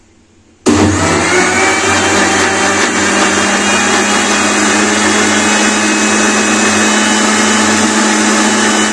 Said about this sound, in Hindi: फिर दिखाऊंगी मैं आपको कि कैसे मिक्सी में मक्खन निकाला जाता है।